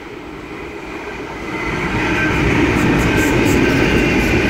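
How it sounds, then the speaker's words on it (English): Heavy freight train hauled by five locomotives rolls past close by while slowing, a loud steady rumble of wheels and wagons that builds and holds, with faint high squeal. "It's slowing down. There is 5 locomotives."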